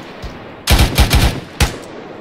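Gunfire crackles in a military video game: a rapid burst of close, loud shots, then one more sharp shot after a short pause, with no talking.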